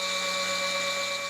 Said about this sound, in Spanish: En primer lugar, se extrae una muestra de polvo con un taladro.